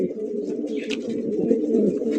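A pair of fancy pigeons coo steadily and close by, a continuous low burbling murmur with a brief higher chirp near the middle, no talk over it.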